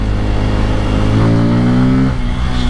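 Kawasaki Pulsar N250, a 250cc motorcycle, pulls hard in second gear, its loud close engine note climbing steadily in pitch for about two seconds before the throttle eases off.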